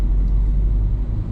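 Steady, loud low rumble of a Renault Lodgy 110 PS 1.5-litre diesel car on the move, a continuous engine and road drone heard from inside the cabin.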